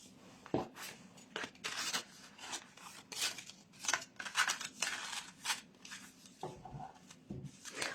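Scissors snip through paper card for a baby card, a steady series of close, crisp cutting strokes and rustles with no speech.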